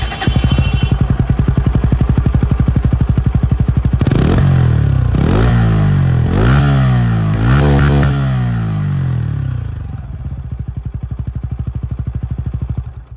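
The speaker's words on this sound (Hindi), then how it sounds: "अब मैं आप लोगों को यहाँ पर जो N160 है, इसकी भी जो अंडरबिल एग्जॉस्ट," A Bajaj Pulsar N160 with an underbelly exhaust idles with a loud, steady thump. A series of sharp throttle blips in the middle rise and fall, then the engine settles back to idle.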